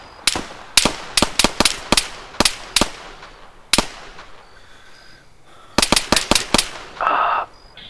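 Gunfire in the military shooter ARMA 3 comes as a string of sharp, loud single shots and quick bursts, with a pause midway and then a brief rushing blast near the end.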